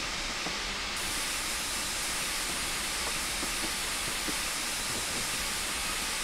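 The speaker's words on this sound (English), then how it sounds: "My god, so much steam." Loud, continuous broadband hiss of steam from the wartime Flying Scotsman steam locomotive braking in the Railworks train simulator, a steady roaring wash with no voices.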